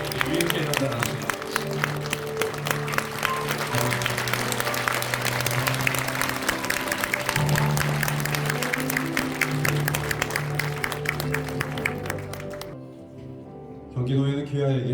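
Congregation clapping at a church pastor installation service, sustained applause over a held organ or keyboard chord that cuts off near the end, leaving brief quiet before another sound returns.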